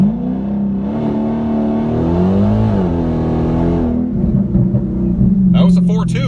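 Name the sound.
Dodge Challenger Hellcat accelerating 0-60 on Mickey Thompson tyres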